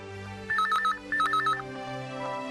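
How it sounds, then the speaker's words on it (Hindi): An indoor telephone rings in two quick, even bursts of trilling bell tones, loud and clear above a quiet room. "पापा फोन!"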